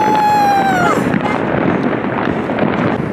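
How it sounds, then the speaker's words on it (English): Fireworks go off over a rooftop on New Year's Eve as a continuous loud rumble and crackle of distant bursts, with a whistling rising tone at the start and wind buffeting the microphone. "Let me show y'all the fireworks."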